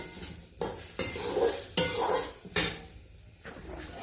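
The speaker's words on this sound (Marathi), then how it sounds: "खोबरं भाजून घेऊया पाच मिनटात आपलं खोबरं सुद्धा लाल होईल चांगल्या प्रकारे" Coconut pieces being stirred as they roast in a pan, with spoon or spatula knocks and scrapes against the metal at uneven intervals and a faint sizzle between strokes, close and with no talking.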